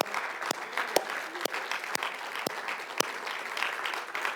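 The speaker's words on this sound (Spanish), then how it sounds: "Dele un aplauso al Señor." A church congregation claps during a sermon, with sharp, evenly spaced claps about every half second standing out above a continuous bed of applause from the crowd.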